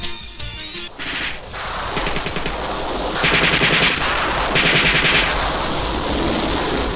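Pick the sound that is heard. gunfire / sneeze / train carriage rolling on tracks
gunfire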